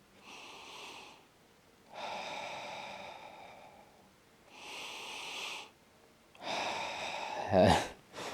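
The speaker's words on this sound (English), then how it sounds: "I know some dude breathing right now trying to connect with my breath" Several people breathing together in a guided group exercise, with slow, audible inhale and exhale swells repeating in a steady rhythm, close and breathy, ending with a brief sharp snort-like rustle.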